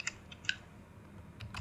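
Keys tapped on a computer keyboard while Python code is entered, coming through as a few faint, sparse clicks spread over a short quiet stretch, close but soft, with no talking.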